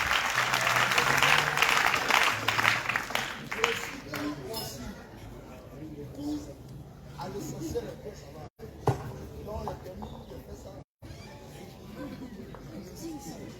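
Congregation at a church revival testimony festival bursts into loud, dense applause and cheering, fading after a few seconds into scattered claps under a speaking voice.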